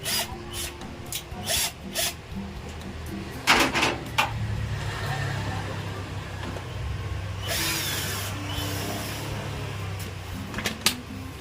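A portable electric screwdriver drives screws during repair work on an inverter window-type air conditioning unit, giving short whirring bursts between handling clatter and a steadier motor hum in the middle.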